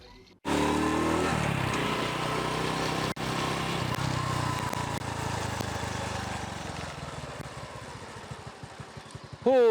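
A motorcycle rides through Kampung Jemoreng, a Sarawak village, its engine droning steadily and close, fading slightly as it goes, with a brief cut near the start.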